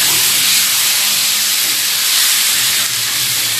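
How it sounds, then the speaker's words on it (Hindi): Potatoes fry in a pan in a home kitchen, giving a loud, steady, broad sizzling hiss that continues unbroken throughout, with no talking over it. "अच्छा, थोड़ा सा हम आलू को फ्राई होने देंगे।"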